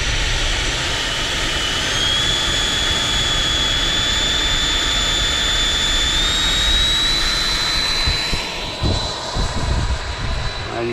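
A radio-controlled FMS F-18 Super Hornet model jet fitted with a 5280 blue flame afterburner spools up for takeoff, a loud, steady turbine roar with a high rising whine that swells and then shifts as the jet moves off.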